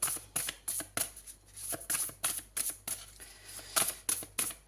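Tarot cards are drawn and handled in a quiet room, making a series of soft, close snapping and sliding flicks in an uneven rhythm.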